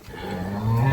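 A calf on a dairy cattle farm moos once, a short low call that swells louder toward the end, close by.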